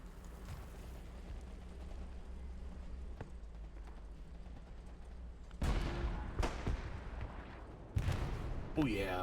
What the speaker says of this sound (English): Oh, we got some SPA direct fire going on.